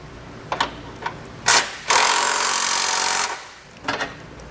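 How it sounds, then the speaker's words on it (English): Bolts on a Curt custom base plate kit fitted to a 2014 Honda CR-V are snugged down with a 19mm socket, giving a few short metallic clicks and then a sustained loud grinding burst from close by, with no talk. "We can come back and snug those bolts down, just using a 19mm socket."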